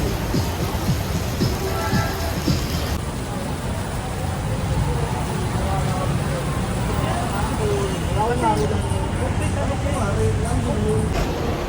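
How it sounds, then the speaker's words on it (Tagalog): Heavy rain pours down in Manila, a dense, steady hiss that fills the whole scene while people chatter and move around in the background. "Lakas ng ulan dito sa Manila."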